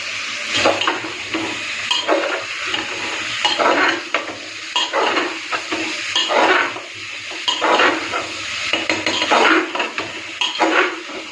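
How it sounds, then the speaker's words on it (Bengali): Chicken with carrot, capsicum, potato and green papaya frying in a pan, with a steady sizzle and repeated scraping strokes of a spatula against the metal at a regular rhythm, close and fairly loud with no talking. "চিকেনের সাথে সবজিগুলো খুব ভালো করে ভেজে নিয়েছি"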